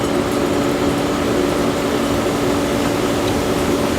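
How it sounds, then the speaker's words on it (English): A pool vacuum runs in an Intex above-ground pool, giving a constant, fairly loud motorized hum with a steady tonal whine and no pauses or voices. "I'm getting ready to get what's there with the vacuum."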